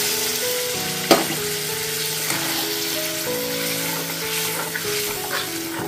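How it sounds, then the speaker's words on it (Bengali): Water poured into a hot frying pan of kudri (ivy gourd) sets off a loud, steady hiss that carries through the whole stretch, with a sharp clink of a utensil early on and some faint stirring, close up with no talk. "এবারে এর মধ্যে আমি জল অ্যাড করে দিচ্ছি"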